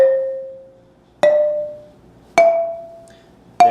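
Four slow, evenly spaced wooden strikes on a Zimbabwean marimba climb in pitch as part of a scale, each note ringing and decaying fully before the next, close and alone.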